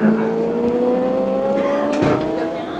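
Racing motorcycles roar down the front straightaway of a wet track during an MCRA Gateway AmGT race, engines holding a steady rising pitch with a sharper passing burst near the end.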